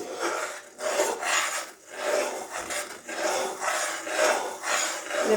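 Milk thickening in a pan is stirred in a steady back-and-forth rhythm, each scrape of the spoon rasping loudly and close against the pan's bottom, about a dozen strokes in a row with no talk.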